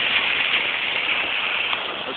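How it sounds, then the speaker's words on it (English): Rain falling steadily during a severe thunderstorm with lightning and some wind in Johnston City, Illinois, heard as a dense, even hiss that carries on unbroken for the whole stretch, with no voices. "there's a severe thunderstorm with a lot of lightning, some rain"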